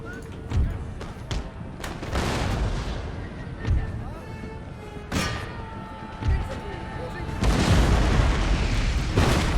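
Musket volleys and artillery booms from an Empire: Total War battle crack and thud repeatedly at irregular intervals, building to a dense rumbling barrage, while someone talks over the fighting.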